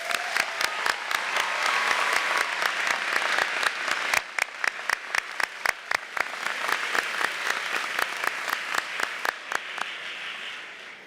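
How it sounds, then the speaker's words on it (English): Audience applause for the band and chorus at a high school graduation in a gymnasium, a loud crowd of clapping hands, dense at first, then thinning into a sharp, rhythmic unified clap that carries to the end. "Please, one more time, can we have another round of applause for our band and chorus?"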